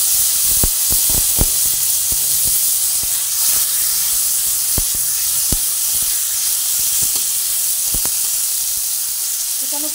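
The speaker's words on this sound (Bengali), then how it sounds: "কুচানো পেঁয়াজ দিয়ে দিলাম। এই পেঁয়াজও ভাজা হচ্ছে।" Chopped onion fries in a pan of oil where a bay leaf is already frying, for a ridge gourd malai curry. A constant loud sizzle and hiss runs throughout, with scattered sharp pops and clicks from stirring.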